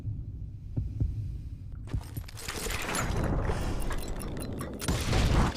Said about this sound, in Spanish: Cuando oigas latidos podrás defundar primero